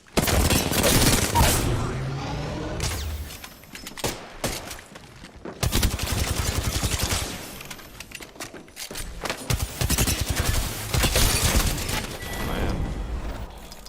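In a video game, a frag grenade is thrown and bursts amid dense, rapid gunfire, with loud overlapping shots and booms packed tightly together near the listener through most of the stretch.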